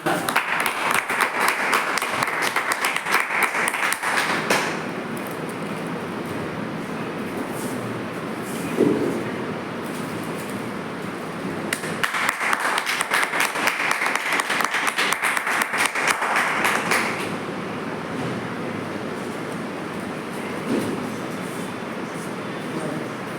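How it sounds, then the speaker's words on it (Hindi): Audience at a live health-product demonstration event claps to welcome a chairman onto the stage, with loud sustained bursts of applause rising and falling in waves amid some background talk. "चेयरमैन स्टार के लिए एक बार जोरदार क्लैपिंग"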